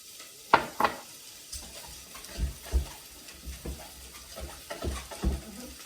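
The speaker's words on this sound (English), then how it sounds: "you just want to let that just sizzle away nicely" Food sizzles in a pan with a steady crackle, broken by a few clattering stirs and scrapes of a utensil; no one speaks.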